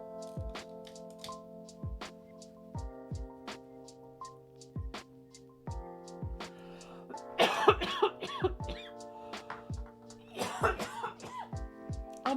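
Several sharp coughs burst out close to the mic after a person swallows wrong, clustered in fits and spaced by pauses, over a faint steady tonal hum.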